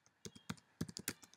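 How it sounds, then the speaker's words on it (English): Quick, quiet keystrokes on a computer keyboard while entering a value into an Excel spreadsheet, about a dozen irregular taps in a short burst. "I'm going to type in the T alpha"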